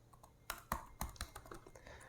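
A command typed on a computer keyboard, with a quiet run of close keystrokes at an uneven pace and no talk.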